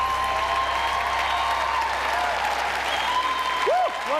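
A live studio audience at an ice-dancing show cheers and applauds loudly and steadily throughout, with whoops rising above the dense clapping.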